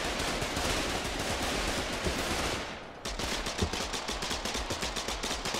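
.50 caliber machine gun fire in the war game Foxhole, first a dense, roaring stream of shots, then after a brief dip a rapid string of distinct, close, punchy rounds in a steady rhythm.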